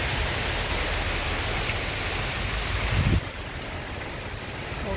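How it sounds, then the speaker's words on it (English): Steady rain falls in a backyard in the evening, a dense hiss of drops on surfaces that briefly swells and then drops slightly quieter near the end, with no voices. "We're having lots of rain"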